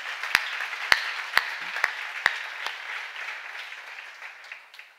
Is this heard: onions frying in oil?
no